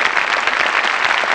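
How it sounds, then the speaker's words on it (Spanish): Steady applause from a crowd in Minecraft, dense and continuous clapping at close range for the whole moment. "Estos aplausos que se escuchen."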